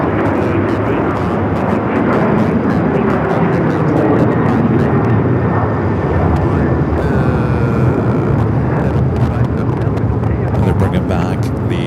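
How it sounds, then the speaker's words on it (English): United Airlines Flight 1800 to Cleveland races down runway 25 right at LAX, a loud continuous jet engine roar throughout, with a voice talking over it. "We do have United Flight 1800 heading to Cleveland, Ohio, racing down"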